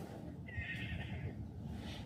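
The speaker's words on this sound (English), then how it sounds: "So the neighbour's horse is neighing a bit, and she's paying attention to that" A neighbouring horse whinnies once in the middle distance, a drawn-out, wavering neigh that rises over steady outdoor rumble and then fades.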